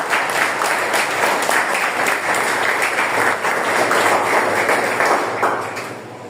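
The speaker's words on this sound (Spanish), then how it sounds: "Dale palmas a Dios, iglesia." A church congregation claps together during a sermon, a thick, sustained burst of many hands that stays loud and even for about six seconds before easing off at the end.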